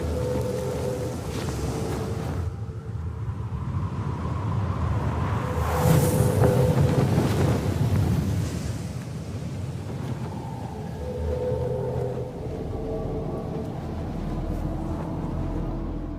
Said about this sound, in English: The ambient sounds you hear in the trailer sound like this.